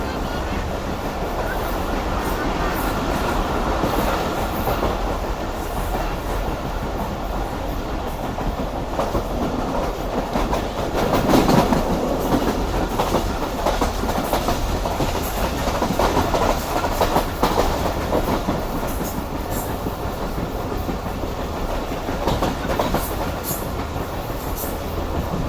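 The Rehman Baba Express rolls steadily past Jamber station without stopping, with a continuous loud rumble and rhythmic clickety-clack of wheels on rail joints heard from inside the carriage, and faint voices now and then.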